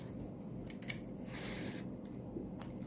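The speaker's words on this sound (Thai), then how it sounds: "ตัดปลายนิปปิ้นก่อนนะคะ" Scissors snip the end of a ribbon close by while folding a Chrysanthemum-flower coin favor. A few quick, crisp cuts sit over a soft, steady background hiss.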